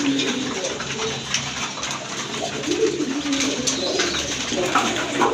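Raj Golla racer or Giribaj pigeons coo in low, throaty, repeated murmurs close by, with soft rustling and faint background noise throughout.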